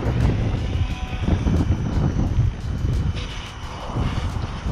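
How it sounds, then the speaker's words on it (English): An OMPHOBBY M5 RC helicopter flies outdoors in gusty wind, its motor and rotor producing a steady buzzing whine over heavy wind rumble on the microphone, fairly close and continuous. "I just wanted to make sure I got a little bit of a flight video for you guys, showing you what it looks like in the air."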